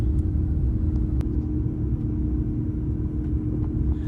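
Steady low engine rumble of an airliner in flight, heard from an economy seat right beside the engine, a constant dense drone with faint cabin clicks and no talking.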